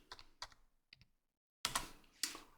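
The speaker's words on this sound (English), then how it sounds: "And then you type system control" A command is typed on a computer keyboard: a few soft key taps, a short pause, then two louder, sharper key strikes, close by in a quiet room.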